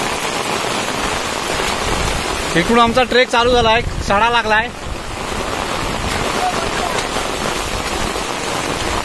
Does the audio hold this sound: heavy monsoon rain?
yes